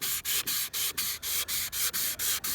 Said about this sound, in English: we're just trying to sand out the 400 grit sanding scratches